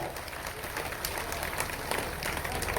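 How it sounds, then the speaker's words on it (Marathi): Crowd applause welcoming a speaker at a BJP political rally in Zare village, a brief, fairly faint burst of dense clapping from a gathered audience. "टाळ्या वाजून त्यांचं स्वागत करूया"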